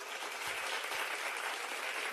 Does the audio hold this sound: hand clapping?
yes